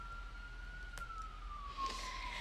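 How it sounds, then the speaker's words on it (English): An ambulance siren passes outside, a faint wailing tone that slowly falls in pitch over a quiet background, distant and muffled, with a brief knock partway through. "Sorry about the ambulance."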